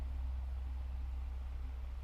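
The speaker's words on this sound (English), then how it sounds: "So white noise, like this fan, is a humming, like static on an old TV." Steady low hum and soft airy hiss of an electric fan running indoors, constant and even throughout with no other sounds.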